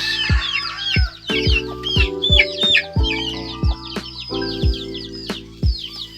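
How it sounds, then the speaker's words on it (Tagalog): Rhode Island Red chickens on a farm cluck in repeated short bursts, close and fairly loud, with other fowl chattering and calling in the background; no one speaks. "Ito na yung mga Rhode Island Red natin."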